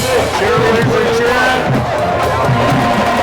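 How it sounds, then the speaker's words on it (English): A high school football game crowd fills the stands with steady, loud cheering and babble, a marching band playing along underneath throughout. "The band is playing, the crowd is happy."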